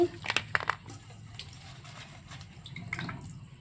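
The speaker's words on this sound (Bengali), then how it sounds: "দুবার ধোয়ার পর খোসাগুলোকে জল ঝরিয়ে ঝরিয়ে আমি এই প্লেটের মধ্যে রেখে দিচ্ছি" Washed ridge gourd peels drip water onto a plate, with a few crisp wet crunches and patters up front, then faint trickling and dripping over a quiet kitchen background.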